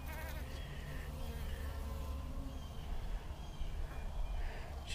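Honeybees hum on a hive frame, a steady low drone of many bees buzzing close by without pause.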